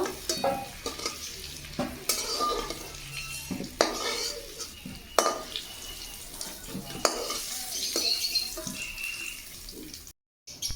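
Fish sizzles in hot mustard oil while a utensil clinks and scrapes against the pan in irregular knocks, ending in a brief silence.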